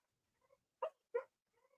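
Two dogs indoors howling in the background: faint, wavering tonal cries open and close the moment, with two louder, rougher bark-like bursts in between, no talking.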